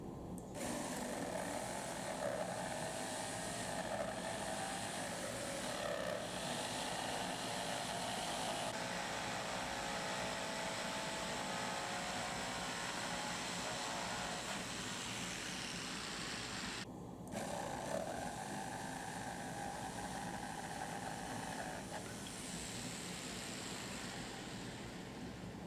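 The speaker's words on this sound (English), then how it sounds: "it was just as simple as following the lines with my jigsaw" A jigsaw cuts out window openings, a continuous buzzing whine with a rattling undertone, briefly stopping and restarting midway, moderately loud and alone.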